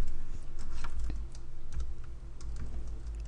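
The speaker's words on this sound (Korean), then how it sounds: "평균이라고 입력하시고요" Typing on a computer keyboard gives a steady stream of close, soft key clicks with no talking.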